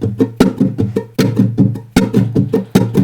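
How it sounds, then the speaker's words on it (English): Nylon-string guitar strumming a quick rumba rhythm, two strums per beat, with sharp percussive accents and muted slaps in a steady driving pattern, close and loud with no voice. "we're going to strum 2 times per beat"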